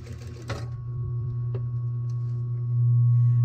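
A sewing machine stitches back and forth over folded elastic on a narrow-side thong, a steady low motor hum with a couple of brief clicks, speeding up louder near the end, with no talking.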